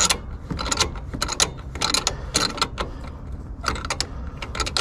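Hand wrench working loose the bolt on the main pulley of a Mazda FC3S RX-7, giving repeated close ratcheting clicks in short bursts with brief pauses, no talking.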